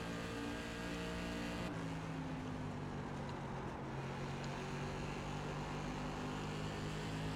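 An SK Modified race car's engine roars continuously in the iRacing sim, a loud sustained drone with a pitch shift partway through as the throttle changes, with no voices.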